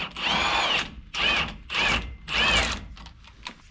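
A power tool whirs in four close bursts, seating wheel studs on a Ford F250 Super Duty, loud and near with short pauses between, then a faint clink as it stops.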